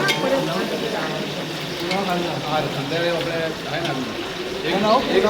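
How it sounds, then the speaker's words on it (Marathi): Tadka tempering sizzling in hot oil, a steady crackling fry that runs throughout, close and fairly loud under overlapping voices talking. "तडका टाकलेला आहे, तडका मारलेला आहे।"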